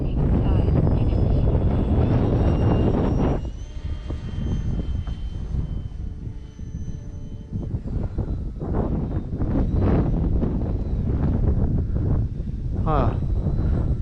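A Durafly Tundra RC plane flies in strong, gusty wind, its electric motor whining loudly and then easing off, with heavy wind buffeting on the microphone and someone talking over it.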